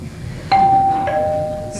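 A muffled doorbell rings indoors, with a sudden electric ding that holds as a sustained tone and then sounds a second time, fairly loud against a quiet room.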